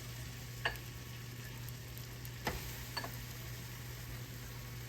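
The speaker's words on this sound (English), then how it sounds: "Put a little butter on the buns. Throw them right in this skillet here." Buttered buns frying in a skillet, a steady faint sizzle with a low hum underneath and a few soft clicks, no speech.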